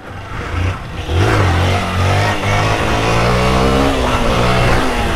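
A motorcycle engine revs hard and holds at high throttle during a wheelie attempt, loud and close, its pitch shifting as the throttle is worked, with no speech.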